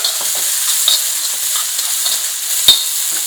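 Samosa filling spices sizzle loudly in a hot pan while being stirred, a steady bright frying hiss broken by a few sharp scraping clicks of the spoon.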